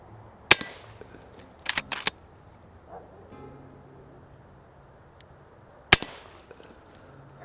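Sharp cracks from an FX Impact air rifle fired at pests in pitch-black darkness, a couple of close, loud snapping shots spaced apart with brief clicks and rustles between, in a quiet setting.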